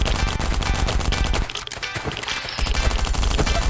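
Gunfire in the survival video game Last Island of Survival rattles in dense, loud bursts, briefly thinning out before the rapid automatic shots pick up again.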